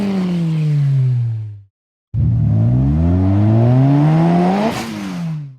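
AI-generated car sound effects: a car engine revs and whooshes past in a falling pitch sweep, cuts to a brief silence, then revs again with rising pitch and tire squeal before a sharp burst near the end.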